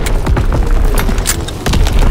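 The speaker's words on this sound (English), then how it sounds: "Division artillery" Division artillery pounds in Call of Duty WWII team deathmatch, producing a dense, loud, continuous rumble of booms and crackling debris with scattered sharper impacts.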